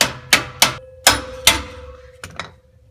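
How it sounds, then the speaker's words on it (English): Five or six sharp metallic hammer taps on a Ford F-150 exhaust pipe joint ring out at uneven intervals, close and loud, each with a brief ringing tail. "Now a few taps with a hammer,"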